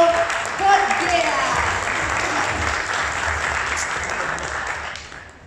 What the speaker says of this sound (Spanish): Así que le damos un fuerte aplauso a Rodrigo Forquera.